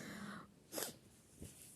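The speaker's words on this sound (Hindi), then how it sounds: "एक छींक आ गई।" A single sharp human sneeze bursts out close by, followed by a faint sniff or snort, in an otherwise quiet indoor space.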